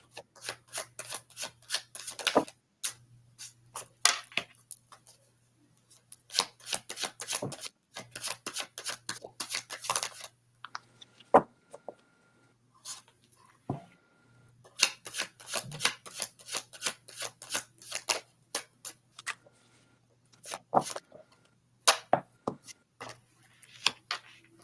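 Playing cards being shuffled for a psychic reading, repeated bursts of riffling and rubbing in close, quick rhythmic runs separated by short pauses, with no talk.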